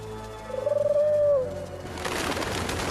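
Pigeons coo in a short rising-and-falling call lasting about a second, fairly close, followed by a burst of broadband rustling noise like flapping or movement in an animated Paris scene.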